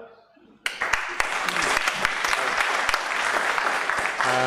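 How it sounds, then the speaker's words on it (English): Audience applause for Dimitri Tokmetzis, a supervisor taking the stage to talk about small digital data, bursts in abruptly after a quiet moment and stays dense and steady, with sharp individual claps standing out near the front. "So, give him more applause"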